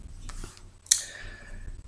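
A deck of tarot cards is cut once, making a crisp papery snap and slide that stands out against a quiet background.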